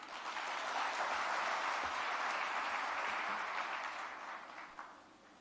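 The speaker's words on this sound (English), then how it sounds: "Another round of applause for His Excellency." Sustained applause from a large crowd at the opening ceremony of an ambassadors conference in Nairobi, steady and dense, tapering off toward the end.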